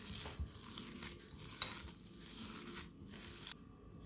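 Chaat masala being stirred into a mixture for rice pakoras with pumpkin flowers, giving soft, continuous scraping and rustling strokes at close range, fairly quiet and without talk, ending abruptly.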